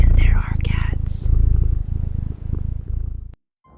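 A cat purrs in the game Cronos: The New Dawn, a close, steady rumbling purr in repeated breath cycles with a whispery breathy layer on top, breaking off into silence near the end.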